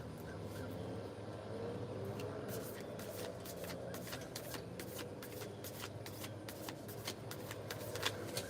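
Oracle cards shuffled by hand for a reading, a steady run of quick, crisp riffling clicks from about three seconds on, close to the microphone over a low background hum.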